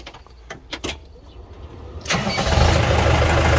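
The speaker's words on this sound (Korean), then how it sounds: "다시 시동 걸어가지고 해봐요, 자동" An LS PS90 tractor engine is cranked and started, a few sharp clicks and brief starter bursts before the diesel catches and settles into a loud, steady running rumble nearby.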